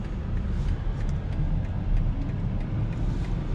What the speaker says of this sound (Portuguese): Vou deixar os carros passarem um pouquinho.